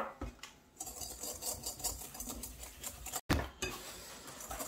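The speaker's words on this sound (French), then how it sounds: "on va venir fouetter comme ça pendant environ 45 secondes" Vanilla sugar and white sugar are whisked in a bowl for a brioche cream, giving a quick run of faint scraping, clinking strokes with one brief pause.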